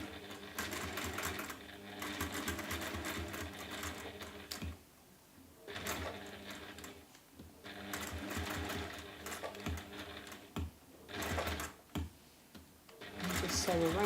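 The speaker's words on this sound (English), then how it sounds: "turn your sewing machine on" A sewing machine runs in several bursts of rapid mechanical stitching, stopping and starting, close by, with a voice talking in between.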